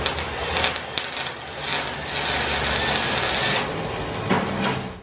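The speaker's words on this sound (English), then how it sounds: "This is possibly a dumb idea, running the welder hooked up to sensitive electronics," An arc welder running while hooked up to sensitive electronics, giving a steady, dense buzzing hiss with crackling irregular bursts throughout, close and continuous without speech.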